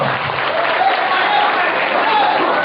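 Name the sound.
applause from training participants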